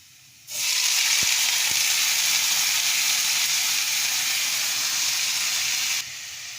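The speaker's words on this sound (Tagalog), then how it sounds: "Ihulog na natin tong ampalaya na ginayat-gayat nila." Sliced bitter gourd (ampalaya) dropped into hot oil with garlic and onion bursts into a loud, steady sizzle that holds for several seconds, with a couple of faint knocks early, then drops back to a quieter hiss.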